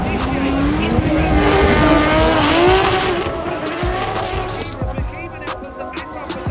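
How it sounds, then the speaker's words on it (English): Drifting race car in the DriftMasters video game, with a loud revving engine and sustained squealing tires, pitch rising and falling through the slide, then a few sharp knocks as the rear bumper meets the wall, with faint commentary underneath. "McKeever now puts the back bumper to the wall and starts to drive away once again"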